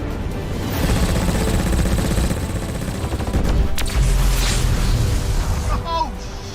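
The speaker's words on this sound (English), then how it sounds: "let's see what this cannon can really do for a proper big finish" In the space game Star Citizen, a ship's cannon fires a rapid, loud barrage of booming shots that run in a dense rolling stream and end in a sharp blast, with speech heard partly over the fire.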